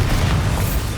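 A loud, close, rumbling boom of the Bombarda explosion spell in Hogwarts Legacy, one heavy blast filling the whole short moment.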